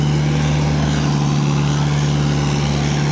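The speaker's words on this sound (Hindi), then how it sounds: "खड़ा ही जा रहा है, पूरा खड़ा तना हुआ जा रहा है ट्रैक्टर।" A Mahindra 575 tractor engine runs steadily under strain while pulling a loaded trolley, a continuous heavy drone with a strong low hum that holds unbroken and fairly loud throughout.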